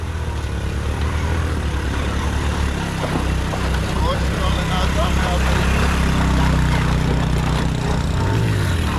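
A Honda CD70 motorcycle carrying three riders labors steadily under heavy load on gravel, a continuous low rumble with road noise and voices talking over it.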